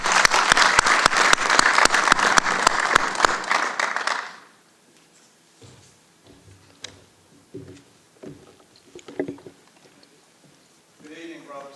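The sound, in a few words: audience round of applause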